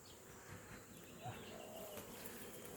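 A faint, steady hum of honey bees clustering around a hive as a new colony is housed, soft and continuous with no voices.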